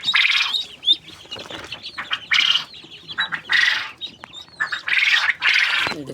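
Quail in a backyard pen with chickens and ducks call in loud, shrill bursts, repeated several times close by, with some wing flapping and clucking mixed in.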